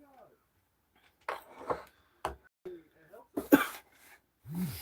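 A person coughing, several short harsh bursts spaced irregularly with quiet gaps between, close to the microphone.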